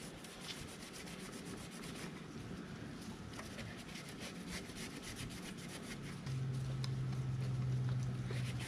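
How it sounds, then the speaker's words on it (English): A brush scrubs gunk off the sprocket teeth of a Harley Davidson Pan America in quiet, steady, rapid scratchy strokes, close and faint, with a low hum joining near the end. "You can also get in now and clean up the teeth of the sprocket."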